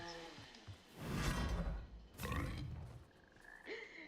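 Frogs croaking in the video game Hogwarts Legacy, a couple of throaty bursts rising over a low rumbling backdrop with some swishing sounds, fairly close and moderately loud.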